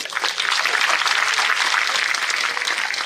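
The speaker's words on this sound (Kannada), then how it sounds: "ಗಟ್ಟಿ ತಟ್ರಿ ಚಪ್ಪಾಳೆ" Audience applause at a talk on traditional millet-based diets at Sri Gavi Mutt in Koppal: dense, steady clapping from a sizeable crowd that fills the whole stretch, with no voices over it.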